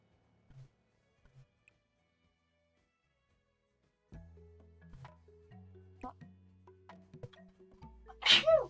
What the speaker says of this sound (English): I couldn't mute in time before I felt the sneeze